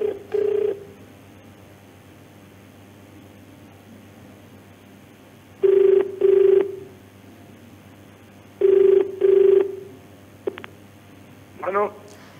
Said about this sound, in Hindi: उनको भी फोन मिलाया जा रहा है और बेल जा रही है फोन की